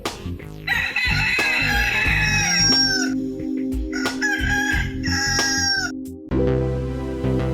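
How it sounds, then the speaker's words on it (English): A rooster crows loudly and close by, with two long cock-a-doodle-doo calls over a backing music track, ending in a brief musical sting. "Let's cue the rooster and get this show started."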